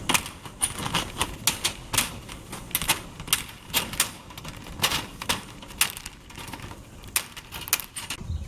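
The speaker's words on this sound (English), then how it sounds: "now I cut 12 inch by 13 inch out of my hardware cloth using my tin snips" Tin snips chopping through a sheet of hardware cloth while a rabbit hutch is rebuilt, a fast run of sharp metallic clicks and snaps repeating close up, with no talking.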